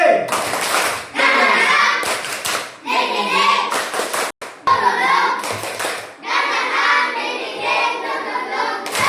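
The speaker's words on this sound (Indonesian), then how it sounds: "Coba kita berikan dulu aplaus untuk kita semua yang semangat dengan tepuk semangat 3D." Primary school pupils in an Indonesian classroom perform a rhythmic patterned clap together, loud close bursts of clapping in a set rhythm separated by brief pauses, with children's voices mixed in.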